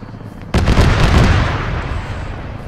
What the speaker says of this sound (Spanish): Eso es el helicóptero abriendo fuego contra algo.